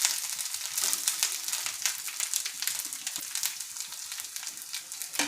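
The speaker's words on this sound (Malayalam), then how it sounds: "ഇനി നമുക്ക് നെയ്യിൽ വറുത്തെടുക്കാം" Grated coconut frying in ghee in a pan over a medium flame gives a dense, close crackling sizzle with bright pops and faint stirring scrapes throughout.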